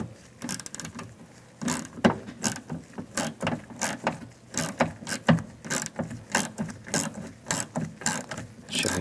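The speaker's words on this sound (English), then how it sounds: "Use a 10mm socket and just loosen that up." A 10mm socket on a ratchet loosening a window regulator bolt inside the door of a 2015-2020 GMC Yukon, giving a close, steady run of rapid clicking pawl strokes in repeated back-and-forth bursts.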